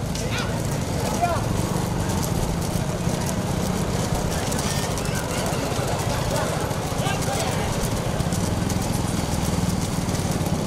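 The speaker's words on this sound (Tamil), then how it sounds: "முதலாவதாக வந்து கொண்டிருக்கின்ற மாடு தினையகுடி ஆர் கே சிவா அவர்களுடைய மாடு." A bullock cart race on a road at Manamelkudi, Pudukkottai district, with bulls' hooves clattering fast and continuously among engine and vehicle noise, while a commentator talks throughout.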